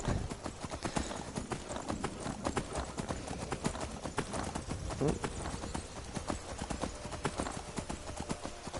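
Steady, rhythmic clip-clop of horse hooves at a trotting pace in Skyrim VR, fairly quiet and continuous throughout.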